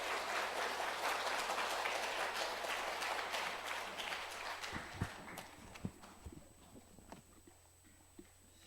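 A gathered congregation applauds to welcome a pastor guest from Russia, dense loud clapping that thins out into scattered single claps and fades toward the end.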